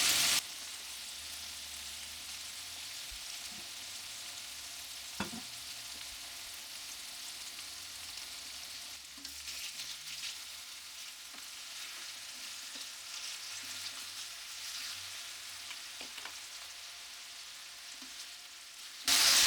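Meat searing in a hot pan during home cooking, a steady soft sizzle and crackle running throughout with occasional small pops and clinks, faint and even, no voices.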